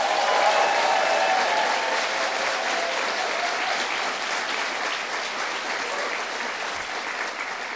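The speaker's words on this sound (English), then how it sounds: "Richard Kaufman, let's give him a round of applause." A large audience gives sustained, dense applause that stays strong throughout and eases slightly toward the end.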